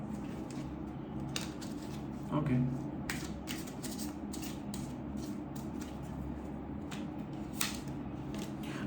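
A deck of tarot cards is shuffled up close in repeated riffling bursts, with a brief louder flurry partway through, while a person speaks quietly over the shuffling.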